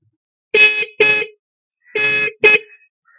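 Four short, loud motorbike horn beeps from a standard horn in two pairs, a bright buzzy honk up close with silence between.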